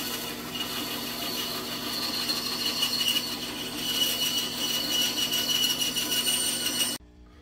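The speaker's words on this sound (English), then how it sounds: "Now I'm going to take it over to the bandsaw and cut it out." Bandsaw cutting a pine plug for a simple powder horn, a steady loud whirring blade with rasping wood contact throughout, stopping abruptly near the end.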